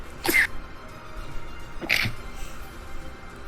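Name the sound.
sneeze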